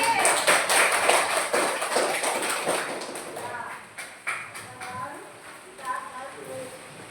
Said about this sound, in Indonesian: Tepuk tangan untuk Irnadi.